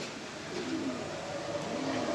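Soft, low cooing of a male pigeon rolls through a steady background hum, a few gentle murmuring phrases at a moderate distance.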